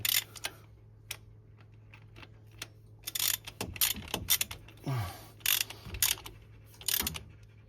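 A ratchet clicks in quick, light runs as a bolt is snugged down during engine work on a Peugeot 207 1.6 HDi, with scattered metallic taps and clunks between the bursts, close and fairly quiet.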